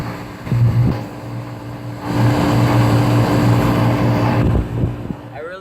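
A 2004 3-ton ICP central air conditioner with a Copeland reciprocating compressor runs steadily outdoors, giving a loud, constant low hum and fan whoosh that swells slightly midway.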